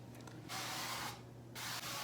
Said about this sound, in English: spray it with canola oil.